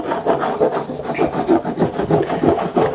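Surf wax is rubbed onto a surfboard in quick circular strokes, a close, rhythmic scraping rasp that pulses several times a second, with no voices.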